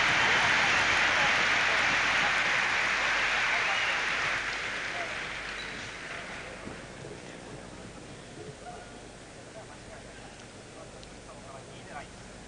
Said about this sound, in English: And the crowd are going wild.